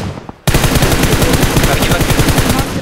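Enemy gunfire in the PUBG Mobile shooter game, loud and close, bursting in right after a quiet moment and running as dense, rapid automatic volleys with no break.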